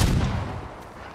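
A fire arrow bursts on impact in the samurai game Ghost of Tsushima, one heavy booming blast at the start that rumbles and fades over the next second.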